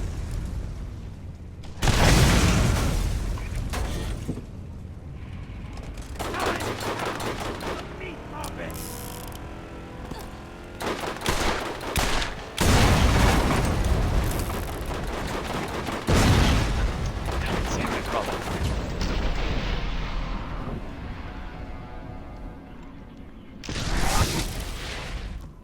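Heavy gunfire from a slow-cycling weapon in the video game Borderlands. Loud mechanical bangs arrive in irregular bursts with gaps between shots, over background game sound and some talk.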